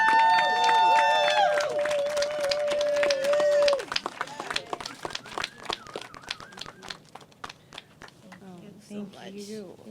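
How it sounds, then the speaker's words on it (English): A crowd at an outdoor mural celebration breaks into applause for the artist, a dense burst of clapping that starts after a few seconds of tonal sound and keeps going to the end. "Can we give a huge round of applause for the artist and give her her flowers?"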